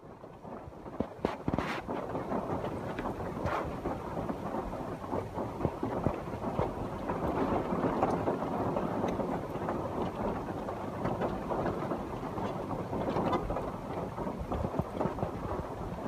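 Steady rain falls outdoors in a dense, continuous hiss with scattered soft knocks and patters, holding an even loudness throughout with no voices.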